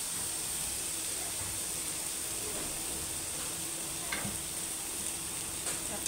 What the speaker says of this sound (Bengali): পেঁয়াজগুলাকে এখন ভাজা ভাজা করা হচ্ছে।